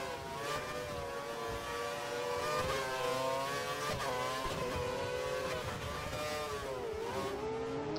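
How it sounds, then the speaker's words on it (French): Race cars in a racing video game, including a Lotus and a Mercedes, with engines droning and revving in rising and falling tones that overlap, steady and moderately loud with no talk. "Et à l'accélération, eh bien Maxi passe la Lotus de Miguelito"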